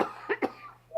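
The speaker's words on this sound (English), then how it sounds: "I only started coughing when I started talking or looking at you or something." A sick person coughs twice in quick succession, close and fairly loud, with a short throaty rasp; a brief vocal sound follows at the end.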